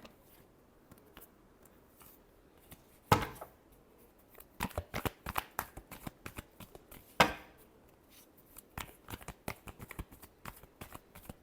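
Tarot cards being shuffled by hand, a series of quick riffling and slapping bursts with two sharper snaps, close and fairly quiet amid brief pauses.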